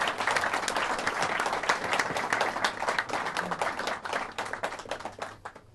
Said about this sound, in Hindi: मैं चाहूँगा ज़ोरदार तालियों से वेलकम